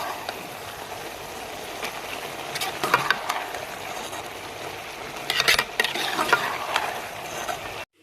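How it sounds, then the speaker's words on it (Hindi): Cabbage, peas and potatoes being stir-fried in a pan: a steady soft sizzle with scraping stir strokes at intervals, louder clatters around the middle and later, close and without talk. "देखिए हम सब्ज़ी को अच्छे से भून लेंगे।"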